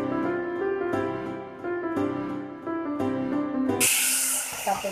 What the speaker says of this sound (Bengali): আর বাঁধাকপিতে জল দিলাম।